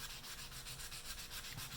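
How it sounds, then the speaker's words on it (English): Wet sandpaper rubs in circles over a gun stock, a faint, close, rhythmic swishing that pulses evenly as each pass repeats. "wet sanding in a circular motion, trying to be careful to get up to the masking"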